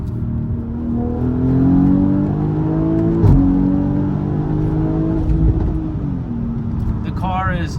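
A BMW X3 M40i accelerates hard in sport mode, its engine droning loud and steady with rising harmonics, a brief thump midway and a lighter whine near the end, with no talk over it.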